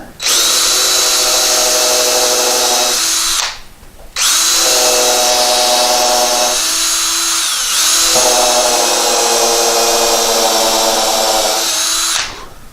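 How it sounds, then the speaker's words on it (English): A power drill with a countersink bit whirs loudly in three long bursts, briefly stopping between them, its motor pitch shifting slightly as it bores screw holes for a fireplace mantel. "I'm going to drill."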